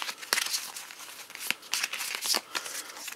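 Marvel Dice Masters: Avengers vs. X-Men cards being shuffled by hand, a quick run of crisp papery riffles and rustles with sharp snaps, close and moderately loud.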